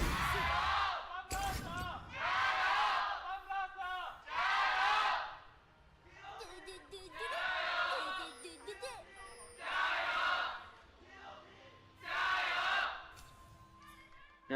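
An LPL esports audience in Shanghai at a FunPlus Phoenix versus Topsports Gaming match gives loud, repeated bursts of cheering and shouting, several waves rising and falling with short lulls between them.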